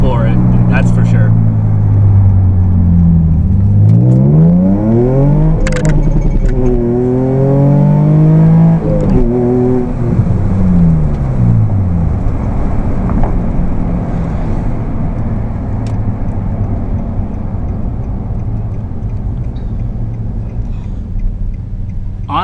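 A Nissan 350Z fitted with Nismo headers revs hard while driving. The engine note is loud and close, swelling and falling in repeated pulls over a steady low rumble of road and exhaust.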